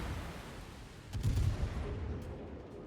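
Smolensk cruisers fire naval artillery in the World of Warships game, giving a single muffled low boom partway through over a quiet, steady background rumble.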